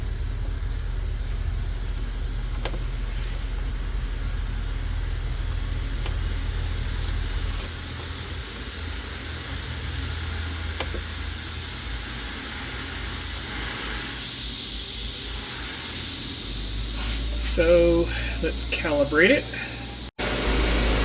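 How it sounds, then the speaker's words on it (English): A helicopter taking off outside a hangar where a Cozy MKIV aircraft is under maintenance sends a continuous low rumble and roar that swells toward the end, with someone talking briefly over the noise. "Sorry about the horrendous noise as the helicopter's taken off outside."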